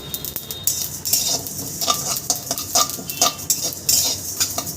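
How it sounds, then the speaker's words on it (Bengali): Spices for a sour-spicy mango oil pickle fry in a pan while a spoon stirs them. Metal scrapes and clinks come in an irregular rhythm over a soft background sizzle, with no voices. "সমস্ত মশলা আমি একবারেই দিয়ে দিয়েছি আমি লাল করে কালারটা চেঞ্জ না হওয়া পর্যন্ত ভেজে নেব"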